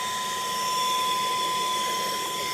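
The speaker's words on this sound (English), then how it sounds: "I hooked this blowing part up. We're going to test it out." A Saker mini portable vacuum cleaner in blower mode runs continuously with a steady high-pitched whine and rushing air, close by, blowing debris out of a car.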